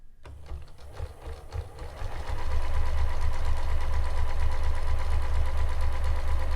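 A sewing machine stitches flat lace onto fabric, starting with a few slow needle strokes and then settling into a steady, close, fast mechanical whir that runs to the end.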